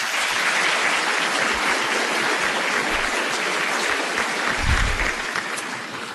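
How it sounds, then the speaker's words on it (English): Audience at a county mayoral forum applauds, a dense sustained clapping filling the room for several seconds, fairly loud and even, tapering slightly at the end. "if we could just give them all a round of applause"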